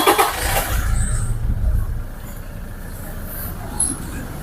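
A 2020 Toyota Fortuner's engine cranks and catches, then settles into a steady, low, close rumble at idle that runs without a break.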